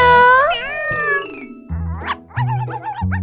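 A cartoon cat meows loudly and close in a children's animated episode, one long drawn-out wavering meow followed by a quick run of shorter, higher meows and cries, with no talk over it.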